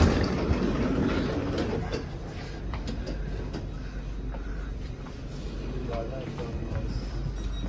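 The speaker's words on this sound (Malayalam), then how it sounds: "തേ കിടക്കുന്നത് നമുക്ക് പോകേണ്ട ട്രെയിൻ." A train standing at a busy German railway station, with a loud, steady rumble and hum, scattered clicks, and people's voices murmuring through it.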